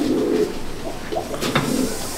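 Pigeons coo in a loft, low, throaty rolling calls that rise and fall over a constant, busy background, with a few sharp clicks of movement near the middle.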